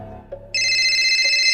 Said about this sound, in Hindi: उसके फोन की रिंग हुई।